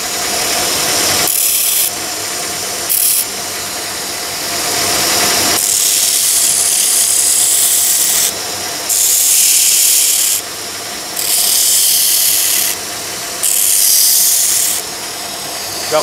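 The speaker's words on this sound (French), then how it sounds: "Je vais meuler un peu les rivets là" Knife rivets being ground down with a power grinder, a loud continuous rasping whir in repeated bursts that swell and ease as the tool is pressed to the metal and lifted, with no voices.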